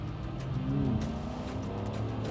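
Several sports cars, a Jaguar F-Type, BMW M8 Competition, Chevrolet Corvette C8 and Mercedes-AMG GT S, launching together in a drag race, a steady distant engine drone with a rising pitch sweep under light road noise.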